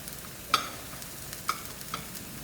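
Neyyappam batter frying in ghee in a paniyaram pan gives a soft, steady sizzle, broken by a few light clicks of a utensil against the pan.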